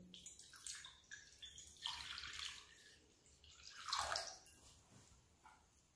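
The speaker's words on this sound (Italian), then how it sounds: "Inizio a versare l'acqua all'interno della bowl." Water poured into a bowl while making Neapolitan fried pizza dough, a continuous splashing, trickling flow with dripping, close by and moderately quiet, swelling to a louder gush midway with no talk.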